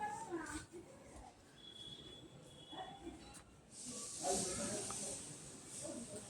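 Water added to a hot pan of Bengali chicken curry with potatoes, giving a soft steady hiss and sizzle that swells partway through, close but quiet, with someone speaking over it.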